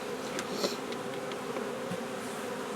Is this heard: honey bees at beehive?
yes